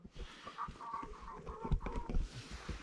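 A man imitates a rooster's crow with his voice at a wild camp in a derelict medieval village, a short run of loud, throaty clucking and crowing bursts close to the listener.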